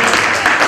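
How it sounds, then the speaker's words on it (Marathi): Crowd at a school function applauding to welcome a guest, a dense steady wash of many hands clapping at once, loud and close throughout. "एकदा टाळ्या वाजवून आपण स्वागत करू."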